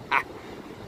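A single short, bright bird call rings out once near a beach by the sea, followed by faint background ambience.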